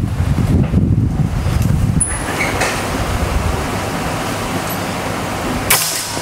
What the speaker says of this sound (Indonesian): angin di outdoor cukup lumayan kencang